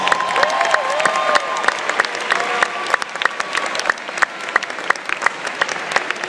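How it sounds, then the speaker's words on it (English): Volleyball team managers at a school assembly receive a dense, sustained round of applause from the gathered audience, with cheers rising early and the clapping thinning slightly toward the end. "Let's have a round of applause."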